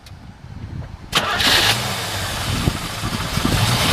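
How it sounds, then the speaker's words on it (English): A 1970 Chevrolet Chevelle SS396 coupe with dual exhaust cranks briefly, then fires up and settles into a loud, rumbling idle close by, with no talk over it. "we'll go ahead and fire this one up for you"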